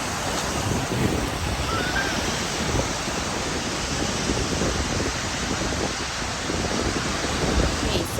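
Steady ocean surf rolls in at a beach on a bright day, a dense continuous wash of breaking waves with wind buffeting the microphone, loud and close throughout with no one speaking.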